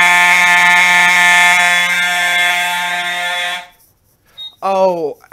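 A fire alarm sounds steadily and loudly after a Gamewell pull station is activated during a California Code alarm test, a sustained buzzing horn tone that cuts off abruptly, followed by brief shorter bursts.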